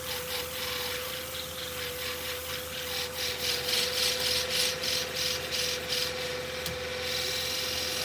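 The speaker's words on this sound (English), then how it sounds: "And now I'm doing convexing on the front surface." Steady rhythmic rasping strokes of shears being sharpened on an abrasive, convexing the front surface, scrape close and clear over a constant electric whine in the background.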